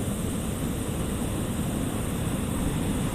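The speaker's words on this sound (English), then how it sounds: "Here comes the waves again." Ocean waves wash onto a cold sandy beach at night as a continuous, loud, rumbling roar with heavy wind buffeting the microphone. No voices are heard.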